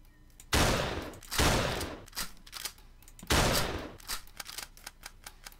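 Gunfire from a gun in the Choo Choo Charles fangame The Forgotten Ones: three loud, close blasts with rattling tails, followed by quieter clicking and mechanical handling sounds between and after the shots.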